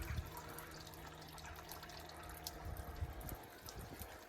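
Water drips and trickles off freshly washed truck parts left drying in the sun, a faint, steady patter with occasional louder drops.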